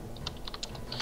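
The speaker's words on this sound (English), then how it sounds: "Sounds like you're typing." Quick, close keystrokes clatter on a computer keyboard in a brief burst of typing, with a steady low hum underneath.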